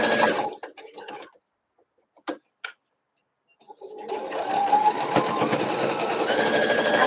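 A sewing machine runs steadily, stitching a quilt top: a short burst of stitching and a brief pause with a few clicks, then a longer continuous whirring run up close.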